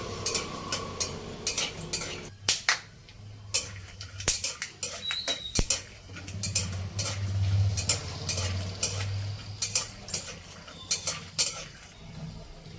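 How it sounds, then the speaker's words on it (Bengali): Peanuts rattle and scrape in a pan as they are stirred, steady clicking and tossing over a faint sizzle of hot oil. "বাদামটা ভাজা হয়ে গেছে, সুন্দর একটা রং এসে গেছে।"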